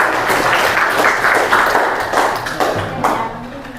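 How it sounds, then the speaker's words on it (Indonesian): Classroom applause for a student, a burst of clapping from pupils that rises and falls over a few seconds, fairly close and steady before fading slightly. "Bagus, tepuk tangan buat Salsabila."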